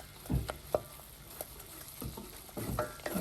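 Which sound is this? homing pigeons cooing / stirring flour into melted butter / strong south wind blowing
stirring flour into melted butter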